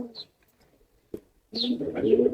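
Soft, low cooing of pigeons, a brief call at the start and a longer rolling coo near the end, close by, with quiet gaps between.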